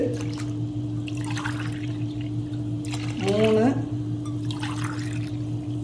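Coconut milk pours briefly from a cup into a pot for tomato rice, a short gurgling splash amid steady kitchen hum, with someone speaking around it.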